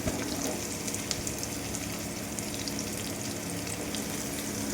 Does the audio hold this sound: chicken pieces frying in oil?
yes